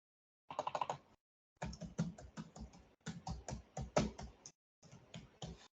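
Bursts of rapid key presses on a computer keyboard while entering an email address and password, clustered runs of close, crisp clicks separated by short pauses, no talking.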